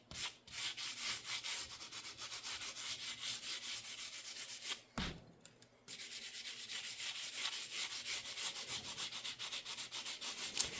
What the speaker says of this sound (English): I'm not going to put you guys through all of this sanding